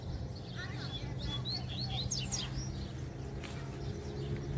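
Double-collared seedeaters chirp and trill repeatedly in short bright bursts, some near and some farther back, over a steady low rumble of outdoor background noise.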